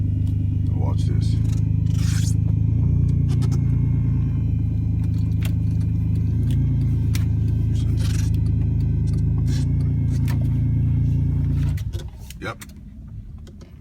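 A car's engine runs with a loud, steady whine and drone, then suddenly cuts out and the sound falls away to quiet near the end; someone says a single word briefly.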